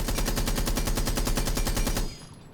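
Blackbeard's rifle fires a rapid full-auto burst in Rainbow Six Siege, about two seconds of evenly spaced, loud, close shots that stop abruptly and leave a brief fading tail.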